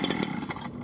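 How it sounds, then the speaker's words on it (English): A gasoline-powered impact wrench engine, the GT-3500GE-V, sputters into life after a recoil-starter pull, giving a short, loud, rough two-stroke-like burst with choppy pulses. "Then pull the recoil starter."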